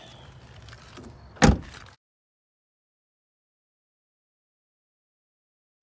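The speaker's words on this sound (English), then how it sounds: "gotta unlock the door" A single sharp clack of a car door latch releasing over low background rumble, then abrupt silence.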